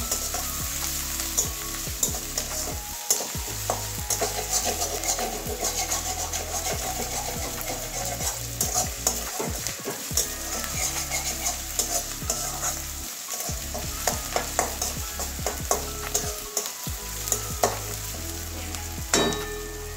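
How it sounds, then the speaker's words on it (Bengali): Ginger-garlic paste frying in oil in a pan for a Bengali potol dish, a loud constant sizzle with busy scraping and stirring strokes of a spatula throughout, close up and with no voices. "এবারে আদা রসুনের পেস্টটা দিয়ে দিচ্ছি, আদা রসুনের সঙ্গে ঘষে নিয়েছি। এটাও কাঁচা গন্ধ যাওয়া পর্যন্ত ভাজবো।"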